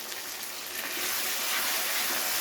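Spices with ginger and garlic are sautéed in a pan, making a loud, steady, close sizzle that swells slightly after the first second. Nobody speaks.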